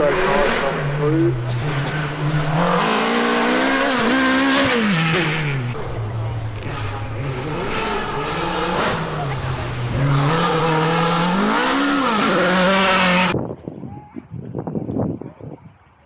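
Race cars at the Cultra hill climb roar past loudly, engine pitch climbing and dropping as they pass, before the noise cuts off abruptly to quieter background sounds.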